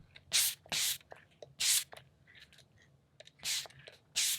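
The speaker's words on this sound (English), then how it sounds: "Now we're gonna jump into the Danessa Myricks Mattifying Setting Spray." Danessa Myricks Mattifying Setting Spray mists from a fine atomizer in several quick, close, hissing bursts separated by brief quiet pauses.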